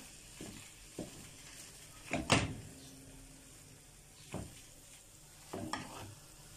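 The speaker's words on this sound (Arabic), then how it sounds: "دلوقتي نزلت بالبطاطس اهو" Potatoes and garlic fry in a pan for a quick breakfast, a soft sizzle under occasional stirring scrapes and clatters from the utensil against the pan, close and fairly quiet.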